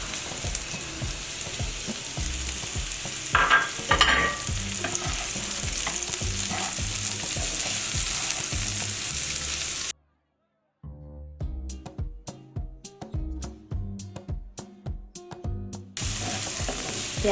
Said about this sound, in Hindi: अब मैं इसमें एक दरमियाने साइज़ का प्याज वो भी चॉप किया हुआ आप ले लें और इसे अब इसमें डाल दें।